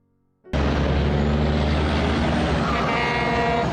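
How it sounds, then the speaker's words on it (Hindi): A cartoon truck starts up abruptly and rumbles loudly and steadily along the road, its heavy engine drone filling the scene with a brief horn-like tone toward the end. "तभी एक ट्रक ने टूना को कुचल देता है"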